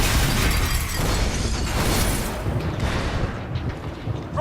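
Set charges detonate in Call of Duty: Advanced Warfare, a loud roaring blast with rumbling debris and crackling that slowly fades over several seconds.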